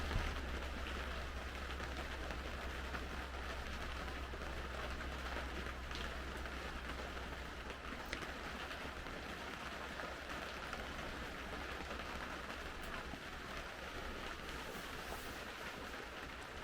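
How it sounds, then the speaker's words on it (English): Steady rain patters continuously on a tipi at a campsite near Devils Tower, Wyoming, with a low rumbling hum underneath and no voices. "with this rain, I don't know if you can hear that"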